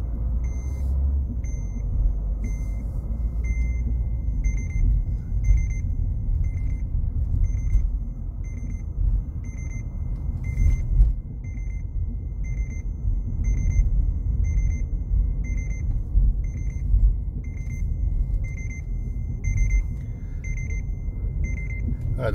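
A Renault Mégane sits in reverse gear with its engine rumbling, while rapid, regular parking-sensor beeps repeat throughout, clear and steady over the low hum of the car.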